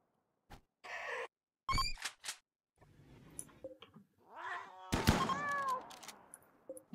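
Cat chicken creatures from the RimWorld video game give a string of short, sharp meowing cries and yowls with thumps between them, loud and clear with gaps of silence.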